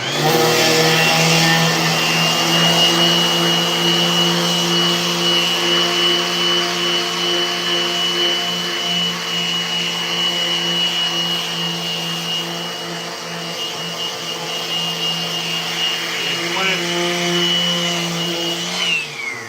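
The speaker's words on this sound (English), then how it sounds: "I'm going to continue to sand now." A power sander working on a wooden skateboard deck, a loud, steady motorized whine with strong humming tones that holds for the full stretch, dipping slightly midway.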